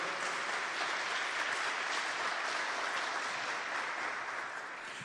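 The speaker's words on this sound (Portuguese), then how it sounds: "Pode aplaudir também, pode aplaudir." Audience at a talk on devotion applauds in a steady, dense burst of many hands clapping for several seconds, even and fairly distant, easing off slightly at the end with no one speaking.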